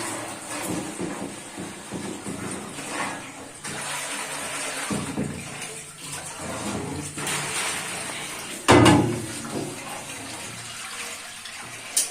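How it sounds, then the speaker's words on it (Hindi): A pot fills with water from a running tap in a kitchen, a continuous rushing, splashing stream heard close up with one louder splash partway through. "अब ये जो है ना पानी से भरता रहेगा"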